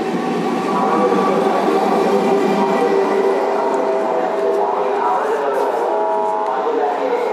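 A train at Mankundu railway station gives a loud, steady rumble of rolling stock that fills the whole stretch, with people talking nearby over it.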